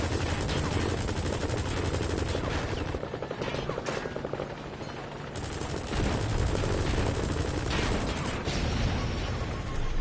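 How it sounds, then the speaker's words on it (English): In Metal Gear Solid V: The Phantom Pain, helicopter rotors drone throughout while bursts of rapid automatic gunfire from dueling helicopters rattle over them, loud and continuous, with a brief dip in the middle. "Helicopters are dueling it out."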